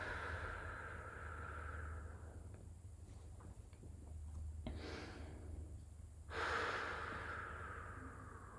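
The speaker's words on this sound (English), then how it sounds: "Continuing to take deep breaths." Slow, deep breaths during a hatha yoga stretch, soft airy inhales and exhales close to the microphone over a low background rumble.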